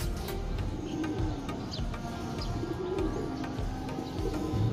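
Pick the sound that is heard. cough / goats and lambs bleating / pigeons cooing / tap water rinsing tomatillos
pigeons cooing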